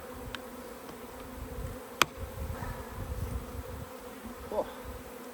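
Dense honeybee buzzing swarms around the outside of a crowded hive during an insulation and hive-body check, a steady close drone broken by a couple of sharp clicks or knocks.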